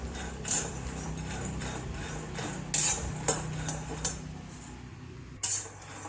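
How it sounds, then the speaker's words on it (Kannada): Peanuts roasting in a pan over a low flame, a spoon scraping and clinking against the metal in a few sharp strokes over a low, steady background hum. "ಸಣ್ಣ ಉರಿನಲ್ಲಿ ಹುರಿತಾ ಇದ್ದೀನಿ ನಾನು"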